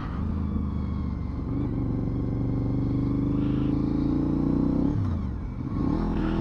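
Car engine accelerating in first gear, a steady loud rumbling drone that rises in pitch, dips briefly near the end and climbs again, heard from inside the vehicle.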